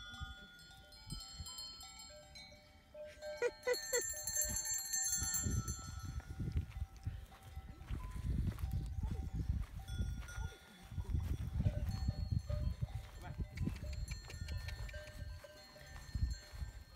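A flock of traditional Portuguese sheep approaches on a farm in central Portugal, with scattered bleats, shuffling and rustling growing louder and nearer, while faint birdsong rings in the background.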